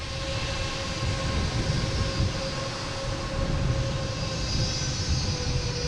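A JetBlue airliner at Boston Logan International Airport gives a steady, broad engine roar with faint whining tones, holding constant and fairly close for the whole stretch.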